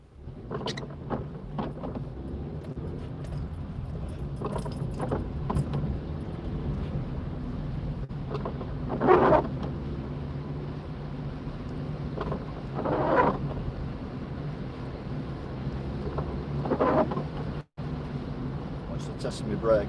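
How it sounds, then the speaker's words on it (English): Heavy rain from Storm Francis batters a car during a drive, a constant broadband hiss layered over road and engine drone, with a few louder gusts or splashes along the way. "It's meant to be a storm, but it's just heavy rain"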